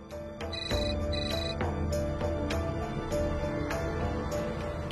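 An electronic phone ringtone plays as a repeating melodic pattern of bright tones, moderately quiet, with nobody speaking over it.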